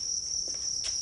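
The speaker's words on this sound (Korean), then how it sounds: "잠깐 이거 그거 아니에요? 귀뚜라미?" Many crickets kept at an insect farm in Sacheon-myeon, Gangneung, chirp as one continuous shrill, even trill that stays loud and unbroken, with no voices.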